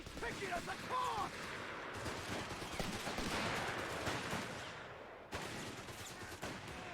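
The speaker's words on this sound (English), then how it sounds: "Just the Recce artillery there, fired from base" Recce artillery shells fired from base in the strategy game Company of Heroes 3, a dense run of overlapping booms and impacts that rolls on for several seconds, with a short break near the end before the barrage resumes.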